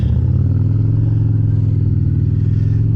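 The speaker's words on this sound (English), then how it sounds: "The bike sounds fantastic" A motorcycle engine revs loudly and steadily up close, a deep throbbing idle-to-rev drone filling the whole stretch with no talk.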